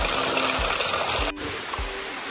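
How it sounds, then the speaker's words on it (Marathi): Water trickles steadily while bottles are filled on a trek to Sudhagad fort, a close continuous splashing flow that softens slightly after a brief break. "तर आता आपलं पाणी भरून झालेलं आहे."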